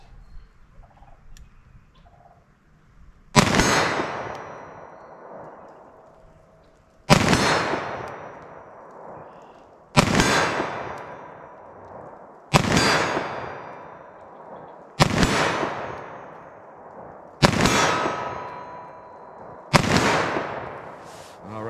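.357 SIG pistol fired at a steel target 40 yards away outdoors: seven loud, sharp shots spaced a few seconds apart, each followed by a long ringing, echoing decay.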